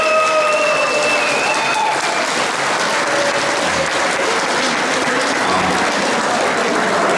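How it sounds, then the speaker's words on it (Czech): A large audience at the Valašské setkání folk gathering applauds a professor, sustained loud even clapping filling the hall, with faint tonal sounds briefly audible early on. "Prosím vás, zatleskejte mu."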